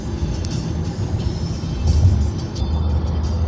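A car drives through light Istanbul traffic, with a steady, close engine and road rumble that swells briefly midway, as if something passes, then settles to an even drone.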